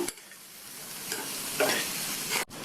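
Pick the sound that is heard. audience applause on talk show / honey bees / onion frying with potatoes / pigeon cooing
onion frying with potatoes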